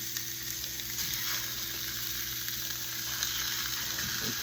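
Sausage frying in pans heated to medium heat gives a steady, close, continuous sizzle with faint stirring scrapes, and no voices over it.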